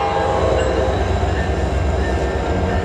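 A passenger train heading toward Denali Park in Alaska rumbles steadily, with a continuous close mechanical roar and rail noise throughout, no talk.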